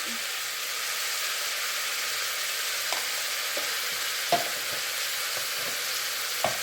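Coriander powder and chili powder fry with a steady, close sizzle in a pan of kabuli chana masala, broken by occasional spoon taps and scrapes as the mix is stirred; no talking.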